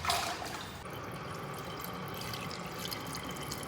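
Clear water from a deep home well, about 350 feet down, being poured: a brief splashy onset, then a steady close trickling stream that runs alone throughout.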